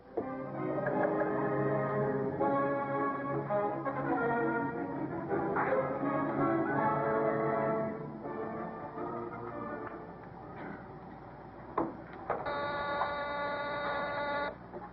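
A spaceship blasts off as a radio-drama sound effect: a loud, steady roaring rumble that holds for several seconds, then eases to a lower drone with a few thin tones near the end.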